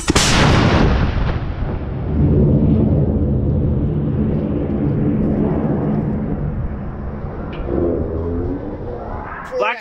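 The Borealis rocket engine ignites at launch with a sudden loud blast, then settles into a sustained roaring, crackling rumble that slowly fades as the rocket climbs away, loud and close.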